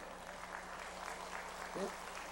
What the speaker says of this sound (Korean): 그거 한번 박수 치는 거예요?